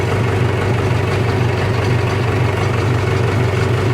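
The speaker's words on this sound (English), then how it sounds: "I'm just gonna let it sit here and idle for a bit." A truck or farm vehicle engine, still being fixed up after sitting, idles steadily at close range with a continuous low rumble and no talking.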